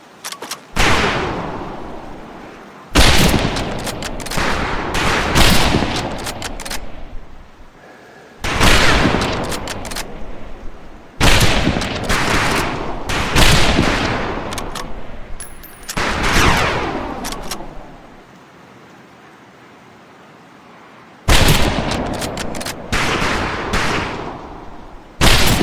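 Rifles crack in rapid volleys on a firing range in the World War II shooter Medal of Honor Pacific Assault, loud overlapping shots arriving in repeated bursts separated by brief pauses.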